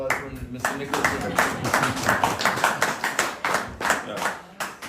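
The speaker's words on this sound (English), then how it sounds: "Round of applause for Mr. Nicholson." An audience claps at a regional forum, producing close, loud, rhythmic rounds of clapping with distinct individual hand strikes throughout, and a voice speaks briefly underneath.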